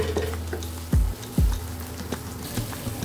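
Crushed garlic fries in hot oil in a pan with a steady soft sizzle, broken by two brief louder stirring or scraping sounds near the middle.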